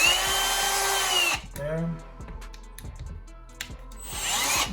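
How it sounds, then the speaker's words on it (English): A power drill bores a hole to mount window shade brackets, its whine starting loud, dropping out for a moment, then returning. Scattered clicks and handling noises fill the gap, and a voice briefly speaks. "Then I drill a hole, pre-existing hole."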